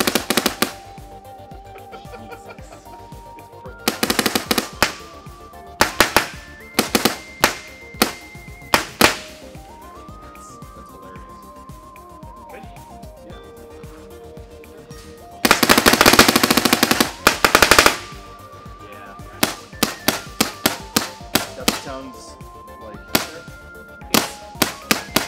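Planet Eclipse Etek 5 paintball marker firing in bursts of rapid, sharp shots, some single and some in fast rolling strings, loud and close with quiet gaps between volleys.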